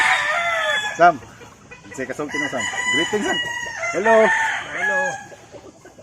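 Several roosters crow loudly and close by in a backyard in Compostela, Cebu, with hens clucking between the calls and a brief voice speaking once.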